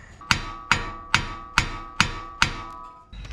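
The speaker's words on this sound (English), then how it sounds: "A couple of taps on that should break it free." Hammer tapping a tie rod end on a 2021 Ford Bronco to knock it free, six sharp metallic strikes at an even, roughly half-second rhythm, close and ringing briefly after each blow.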